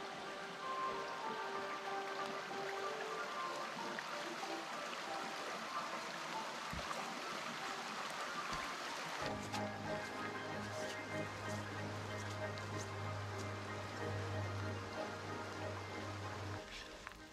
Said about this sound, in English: This is the first river crossing of several over this river,